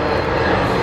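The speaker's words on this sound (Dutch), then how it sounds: "Nou, we laten het vliegtuig even overvliegen." An airplane passes low overhead on the approach path to Düsseldorf airport, heard from a parking lot at a trade fair, as a loud, continuous broadband engine roar with no talking.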